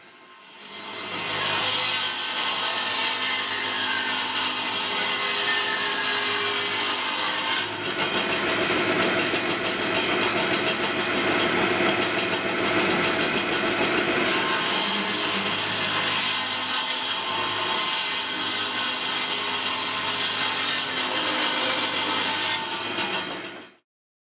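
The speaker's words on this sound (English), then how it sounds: "take my boards to the miter saw and cut them all to length before taking all my pieces over to the table saw" A miter saw and a table saw cut wooden boards to length and width for laundry room cabinets. The loud, continuous whine of the power saw runs almost unbroken for over twenty seconds before stopping abruptly.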